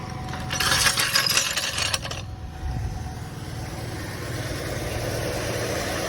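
A Buick Rendezvous engine idles steadily after a fuel line replacement, a low continuous hum following a brief burst of metallic rattling and clicking near the start.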